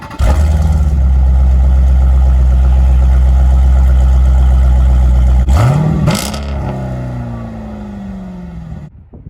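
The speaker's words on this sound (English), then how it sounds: "let's take a listen to the exhaust note of this Grand Cherokee SRT." A 2021 Jeep Grand Cherokee SRT with dual exhaust rumbles loudly at a steady idle for about five seconds, then a sharp blip of revs rises and decays, leaving a quieter settling idle.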